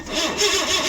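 A Suzuki APV with rewired engine harness cranks over in a short, loud, close burst of starter whirring and engine churn, no voices.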